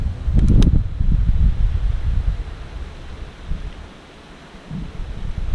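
Wind gusting on a blustery fall day, a broad low rumble of buffeting against the microphone, loudest early with a few sharp bursts, then easing and rising again.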